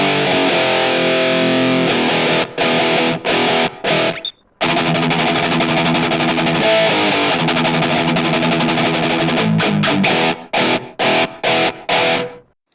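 A single track of distorted electric rhythm guitar plays loud, tight palm-muted chugging riffs, broken by sharp stops and staccato hits.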